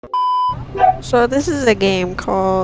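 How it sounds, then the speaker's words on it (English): A small dog whimpers and yips in short high cries close by, with a beep at the very start and a person talking throughout. "Sorry if you can hear my dog in the background."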